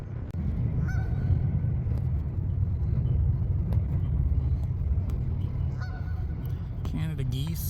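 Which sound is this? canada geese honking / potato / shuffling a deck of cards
canada geese honking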